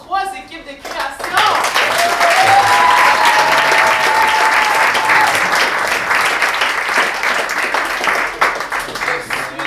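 A theater audience applauds at a show, sustained loud clapping rising quickly and holding for several seconds, with scattered voices mixed in before it tapers slightly near the end.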